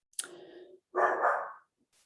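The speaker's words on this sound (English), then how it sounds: "Sorry about the dog." Two close, loud barks from a dog indoors, a sharp yelp-like first bark followed by a longer rougher one, then quiet.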